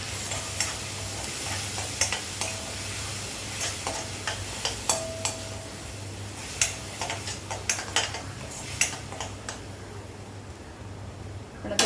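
Turmeric being stirred into ridge gourd and dal in a pan: a soft continuous sizzle with repeated sharp clicks and taps of a utensil against the pan, close and fairly quiet, without talk.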